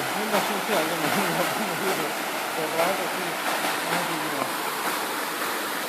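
Water falls steadily at the Ghora Mar waterfall, a close, continuous rushing wash that runs the whole time while someone talks over it.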